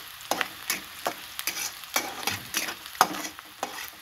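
Curry leaves frying in hot oil in a pan, a soft sizzle broken by regular stirring scrapes about every half second, close and fairly loud with no voices.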